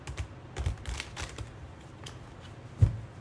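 Thick tarot cards shuffled by hand, a few soft riffling bursts near the start and a sharper single slap of cards near the end, close and fairly quiet with no talk.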